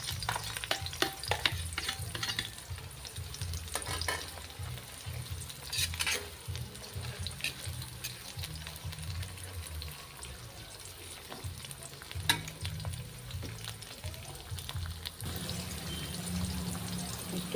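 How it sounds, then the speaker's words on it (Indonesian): Chilies, shallots and onion sauté in hot oil in a pan, an ongoing crackling sizzle with frequent stirring scrapes and clinks, close and steady throughout. "Lombok berambang bawange di tumis."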